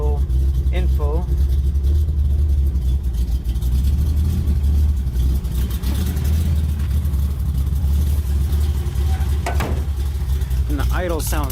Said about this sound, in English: the idle sounds pretty sweet with that 272 cam